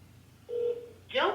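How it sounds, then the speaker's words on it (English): A phone line to a bank's customer service answers a call, a short steady electronic tone followed by a brighter burst of line tones, close and clear over a low hum. "Let's see if I can get them on the phone again."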